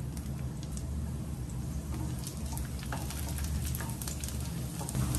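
Chopped garlic and ginger fry in hot mustard oil on a medium flame, giving a steady, dense sizzle that crackles evenly throughout at close range.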